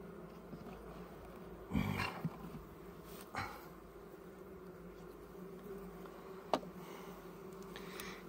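Honeybees hum at a beehive holding a swarm colony, a faint steady drone with a few brief louder thumps and rustles from handling the hive.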